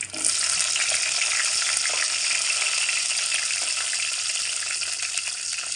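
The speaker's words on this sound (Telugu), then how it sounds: "ఇప్పుడైతే మనము ఈ ఆయిల్లో ఈ మిర్చి ఉన్న ప్లస్ ఉల్లిగడ్డలు వేసేసుకుందాం." Green chillies and onions dropped into hot oil for chicken curry set off a loud, dense, continuous sizzle that stays strong and close throughout, with no talking.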